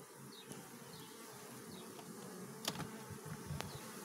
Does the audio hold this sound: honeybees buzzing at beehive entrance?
yes